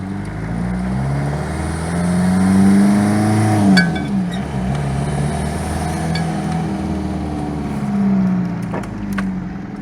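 Chevrolet S10 pickup with a 2.2-litre turbo diesel, driving at about half throttle near 40 mph: a steady close engine drone that rises and falls in pitch as it pulls and eases, with no voices.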